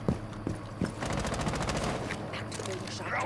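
Rapid gunfire in a Rainbow Six Siege match, a fast run of sharp shots after a few isolated bangs, sounding close and steady throughout, with a voice talking over it.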